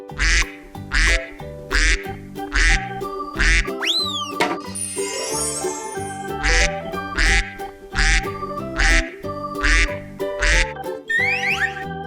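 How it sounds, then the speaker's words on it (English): A toy duck quacks loudly in a repeated, rhythmic series of sharp honks with a bouncy, boing-like and jingling sound effect mixed in, close and prominent throughout. "Duck."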